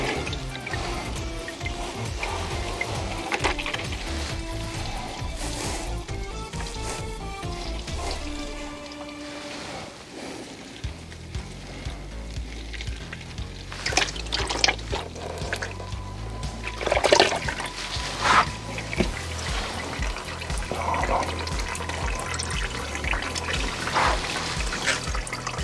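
Transmission oil from a Renault EDC6 DW6 / Getrag 6DCT450 dual-clutch gearbox trickles steadily into a narrow drain pan, with a continuous liquid pour that swells and thins, plus a few clinks and handling noises partway through.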